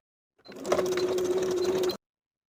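Sewing machine running a steady zigzag stitch over overlapped elastic ends, a continuous close whir for about a second and a half, starting and stopping abruptly with no talk.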